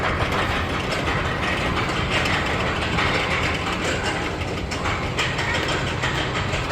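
An amusement park drop ride at Bahria Adventure Land in Karachi runs with a dense, continuous mechanical clatter and rattling rumble, loud and steady throughout with no voices standing out.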